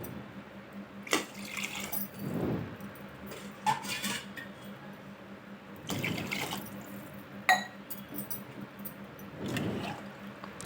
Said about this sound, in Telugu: ఇప్పుడు వచ్చేసి నాలుగు గ్లాసుల వాటర్ వేసుకుందాము